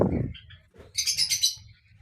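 Home-bred pet lovebirds and cockatiels chirp in quick, high trills close by, a short burst of bright tweets over a soft low rustling.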